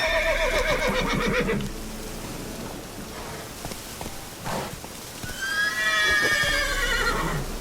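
Roach, the horse from The Witcher, whinnies loudly twice, at the start and again near the end, with a few soft hoof clops and rustles in the quieter stretch between.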